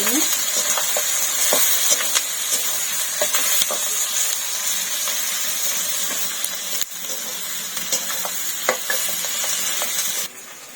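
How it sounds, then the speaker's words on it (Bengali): Onions frying in a pan with spices for a homemade mutton curry, a steady close sizzle with scattered stirring scrapes and light utensil clicks throughout. "ওটা দিয়ে মানে ভালো করে এটাকে আবার লাল লাল করে ভেজে নিতে হবে।"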